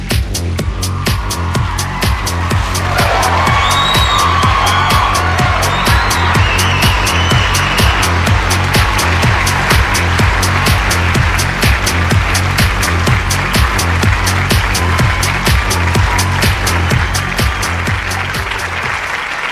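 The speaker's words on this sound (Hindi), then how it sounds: "जोरदार तालियों से स्वागत करेंगे।" Loud, sustained applause from a seminar audience welcoming a speaker, dense clapping that swells and holds steady at close range with a faint low hum beneath.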